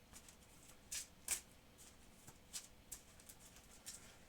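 A deck of playing cards from a superhero card game is shuffled in short, quiet riffles and flicks, a few crisp bursts spaced across a few seconds with nobody speaking.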